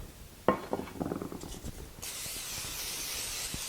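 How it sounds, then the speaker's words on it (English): Non-stick cooking spray hisses into a 9x13 baking dish after a clink of the can against glass and some light handling noise, ending in a steady close spray of a couple of seconds. "spray a 9x13 baking dish with some non-stick cooking spray"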